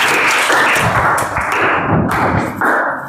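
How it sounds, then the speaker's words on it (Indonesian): A classroom full of students applauding a classmate during a religious education lesson, a dense burst of clapping that swells and fades in waves over a few seconds, close and loud, with no talking. "tepuk tangan buat Danu"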